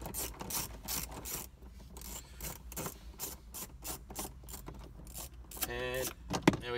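Screws are undone to free the stereo panel on a 2016-17 Ford Ranger PX2: close ratcheting and clicking from a tool, with rattling and scraping in the dash, under intermittent talk.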